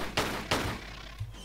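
Shotgun blasts in Tomb Raider IV: The Last Revelation, two sharp reports a third of a second apart followed by a dull thud, fairly quiet with no talk.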